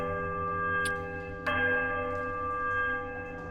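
Bells in the bell puzzle of the video game Pillars of Eternity, with a soft ringing tone and a sharper struck bell over a steady droning game ambience, fairly quiet with no speech.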